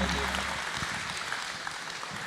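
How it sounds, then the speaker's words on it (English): Audience applause for a startup team at a startup contest finals, moderate clapping that starts fuller and thins slightly, with some talk mixed underneath. "Give a big round of applause to the team"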